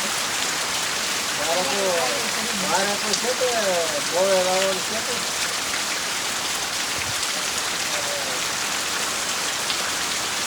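Constant rain patters on a surface, loud and even, while a voice speaks briefly early on.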